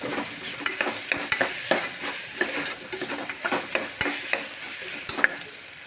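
Goat head curry fries and sizzles in a pan as it is stirred, a steady frying hiss broken by repeated scraping strokes and light clinks of the spoon against the pan, close-up with no talking.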